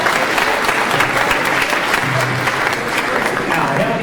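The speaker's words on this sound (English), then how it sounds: "Can I hear a round of applause for the former crew for spending their time?" A crowd at the annual USS Thresher memorial service gives a round of applause to the former crew, a steady, dense wash of many hands clapping that holds loud and even throughout.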